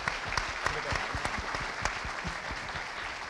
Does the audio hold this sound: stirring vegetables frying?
no